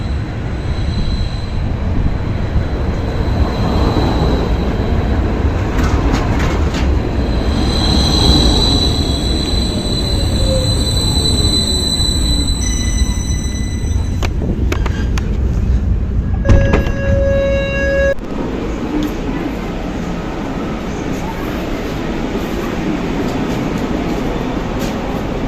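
An Istanbul tram powered by an electric rail in the middle of the track rumbles past loudly, its wheels squealing and whining with rising and falling metallic tones before the noise settles into a steadier running hum.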